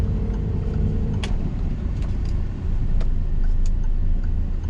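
A car accelerating in second gear during a driving lesson, a steady low engine rumble from inside the cabin with a few faint clicks and light road noise, with no voices.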